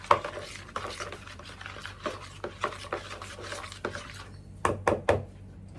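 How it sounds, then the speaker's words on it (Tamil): Bread dough with risen yeast being stirred and mixed in a bowl, a close series of irregular scraping and rubbing strokes with a few sharper knocks near the end. "இதையும் நல்லா மிக்ஸ் பண்ணிக்குவோம்."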